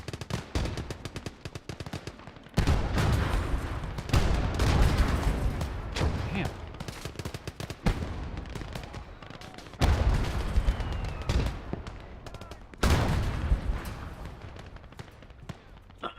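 A Gates of Hell tank battle brings loud, sustained gunfire and artillery: rapid machine-gun bursts and heavy blasts arrive in repeated waves with brief lulls between them, while a voice talks over the din.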